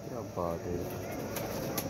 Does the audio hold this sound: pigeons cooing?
yes